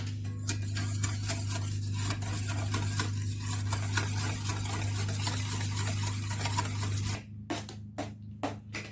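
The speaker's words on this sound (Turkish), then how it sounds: "Bunları güzelce çırpıyoruz." Batter ingredients, including oil, whisked in a bowl for a karnıyarık börek: a fast continuous rhythmic clatter of the whisk over a steady hum, ending in a few separate taps against the bowl.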